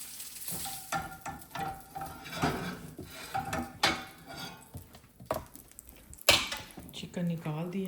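Pots and dishes are washed in a home kitchen, with irregular clinks, clatters and scrapes of metal and crockery mixed with running water, heard close by.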